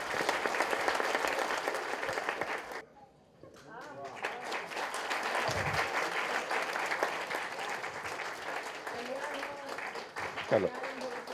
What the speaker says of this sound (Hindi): सब लोग इनके लिए तालियां बजाएंगे।